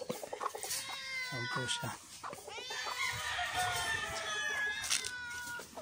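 Gamefowl roosters on a backyard farm cluck and crow repeatedly at close range, layered over each other, while a person talks softly beneath them.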